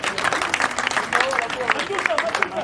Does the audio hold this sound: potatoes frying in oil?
no